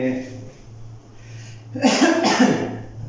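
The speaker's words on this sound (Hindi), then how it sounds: "खांसी आ रही है" After a quiet stretch with a low hum, a person coughs a couple of times in quick harsh bursts, close and fairly loud.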